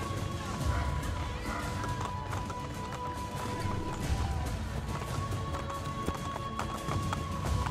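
Horse galloping in the Assassin's Creed Brotherhood video game, a steady rapid clip-clop of hooves under a dense game soundscape, running throughout at an even loudness.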